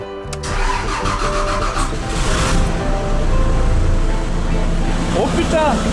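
A camper truck's engine cranks and catches, then settles into a loud, rough mid-pitched idle with a slight rev, heard up close while a voice talks nearby.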